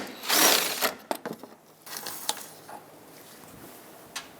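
Ratchet clicking as a 10mm bolt comes off the washer fluid tank of a 2014-2021 Mazda 6, a burst of quick mechanical clicks followed by a few scattered, sharper ticks, close and fairly quiet.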